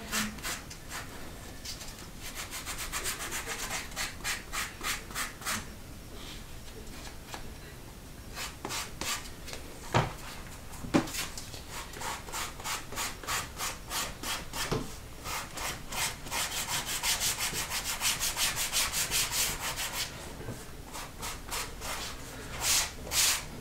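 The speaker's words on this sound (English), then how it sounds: "if you don't have a Dremel, you can just hand sand it" Leather worked by hand with sandpaper, steady close rhythmic scratching strokes repeated over and over at an even pace, soft and continuous with no talking.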